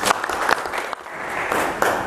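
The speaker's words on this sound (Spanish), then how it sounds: "démosle un aplauso para recibirlo como es" An audience at a public talk on environmental policy applauds steadily for a couple of seconds, a dense wash of clapping with small surges, with no talking over it.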